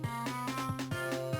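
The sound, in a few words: Animaniacs Game Boy Advance prototype video game music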